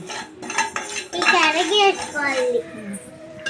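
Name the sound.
roasting fenugreek and mustard seeds in a pan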